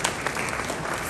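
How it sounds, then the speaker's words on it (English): A convention audience at a mining and minerals gathering bursts into dense, steady applause, many hands clapping together at full volume with no break across the moment. "Let's all clap for ourselves"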